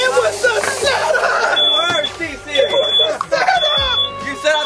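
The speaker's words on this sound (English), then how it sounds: "You set out the alarm, TC." An electronic alarm goes off in short, repeated high beeps, each burst lasting about half a second, partly buried under loud, excited voices and shouting nearby.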